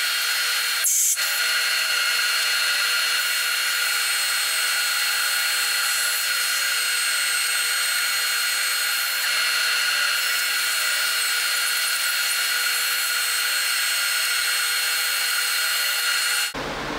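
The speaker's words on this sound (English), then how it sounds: "sand this off, all the fuzz and saw lines on the drum sander" A drum sander runs steadily on a maple Les Paul guitar top, taking off fuzz and saw lines: a loud, continuous high whine with broadband hiss that holds evenly throughout before cutting off at the end, no talking.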